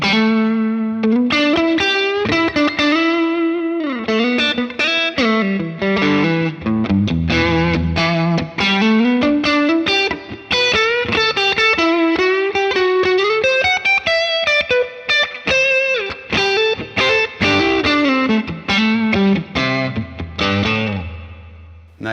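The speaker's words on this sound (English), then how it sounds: "I'm going to add in a little bit of reverb here" Distorted electric guitar playing a continuous melodic riff with a medium room reverb adding a light wash behind the notes, loud and steady throughout.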